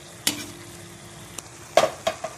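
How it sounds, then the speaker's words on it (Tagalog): Fish being stirred in a hot cooking pan: a few sharp scrapes and clacks of a spatula against the pan over a faint sizzle, close and brief, with no talking. "iharo lang natin ng konti"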